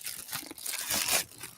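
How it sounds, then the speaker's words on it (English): Packaging crinkles and rustles in a few quick, close bursts as an item is pulled from a box, loudest near the end. "Let me get it out of the box."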